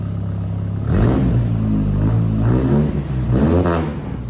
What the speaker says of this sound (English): Yeah, give her a couple revs.